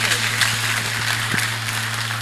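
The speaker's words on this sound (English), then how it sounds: "Please give CEO a round of applause." A conference audience at a traders' event applauds the CEO with continuous, moderately loud clapping over a steady electrical hum, with some speech mixed in.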